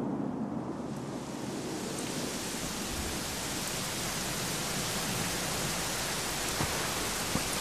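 Steady rain in the video game Dragon Quest XI hisses evenly throughout, a dense, continuous wash of noise with no voices.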